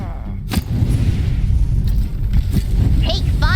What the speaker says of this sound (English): Explosions! And boom!